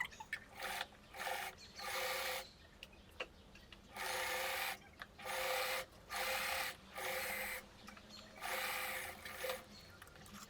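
Sewing machine understitching the lining of a summer slip-on dress with spaghetti straps, running in repeated short bursts of mechanical whirring separated by brief pauses, fairly close and steady, with no talking.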